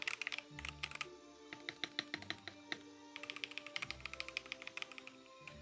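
Fingers type quickly on a computer keyboard, a dense run of close, crisp key clicks and taps in uneven bursts with brief pauses, no voices.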